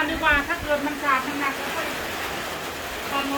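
Rain falls steadily at night beside a parked vehicle, making a dense hiss that carries throughout. Someone talks over it near the start.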